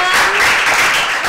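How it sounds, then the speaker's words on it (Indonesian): An audience bursts into applause, a brief, loud and dense burst of clapping with no talking over it. "Tepuk tangannya lagi penonton."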